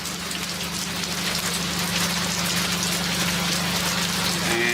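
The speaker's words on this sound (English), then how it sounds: "with all this rain" Steady heavy rain falls on surfaces outdoors, a dense, continuous hiss of drops with a low steady hum underneath throughout.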